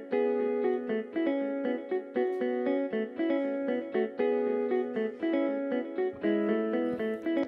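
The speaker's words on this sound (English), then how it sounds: "this is the guitar that I played at the beginning of this video" Guitar melody playing alone as one layer of an Afro House track produced in FL Studio, with steady rhythmic plucked notes and sustained harmonic tones repeating through the loop with no voices.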